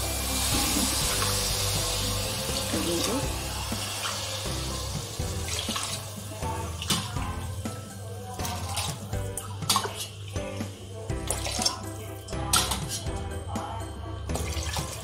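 Water poured from a tap into a cooking pot of fenugreek rice with grated coconut, a steady broadband rush with splashing and clinking close by, no talking.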